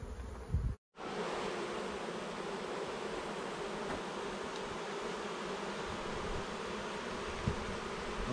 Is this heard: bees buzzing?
yes